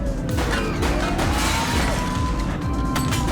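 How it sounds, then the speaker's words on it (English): A car smashes into something in the video game The Precinct, a loud crunching, shattering impact amid dense, continuous vehicle noise. "He's shooting! He's crashed!"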